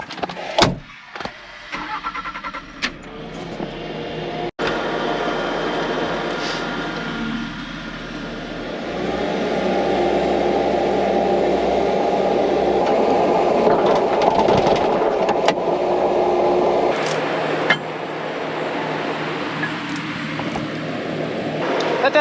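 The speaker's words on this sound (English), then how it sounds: "so we're just gonna use the skid loader instead" On a farm, a skid loader engine runs on and on with a loud, steady mechanical roar that holds close and continuous throughout, marked by a few sharp knocks and clunks.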